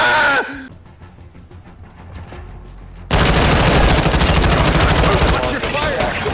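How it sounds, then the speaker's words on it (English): Video game gunfire, a single loud shot, then a stretch of sparse, quieter taps, then a sustained burst of rapid close automatic fire. "Yeah, I shot that guy."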